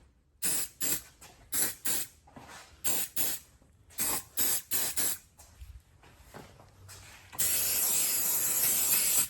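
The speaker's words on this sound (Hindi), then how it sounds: "उन पे हम सीधा जो इसका नोजल है हटा के स्प्रे करेंगे" An AEROL multipurpose silicone spray can is sprayed onto a door with its nozzle removed: about a dozen short, sharp hissing bursts, close and evenly spaced, then one long, continuous spray.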